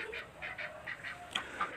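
Ducks on a duck farm quack in a rapid, repeated series of honking calls, moderately near and fairly faint, with a couple of sharper calls near the end.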